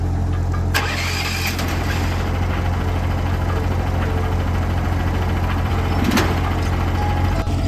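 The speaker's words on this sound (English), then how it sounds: "we're gonna make sure the sawmill will fire up" A gasoline sawmill engine cranks and catches with a sharp burst, then settles into a loud, steady idle, with another brief revving surge near the end.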